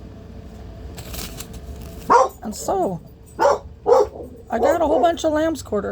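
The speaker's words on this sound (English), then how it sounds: "I apologize for the dog barking again." A dog barks several times at close range in quick bursts while someone talks over it, with a low background rumble running underneath.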